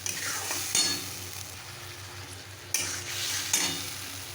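Spice paste (masala) sizzling and being stirred in a pan, a steady close-up fry hiss with a few louder scraping strokes of the spoon, no voices.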